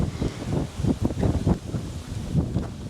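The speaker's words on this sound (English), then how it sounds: "it's windy as heck" Gusty wind buffets outdoors in low rumbling surges, rising and falling unevenly without a break.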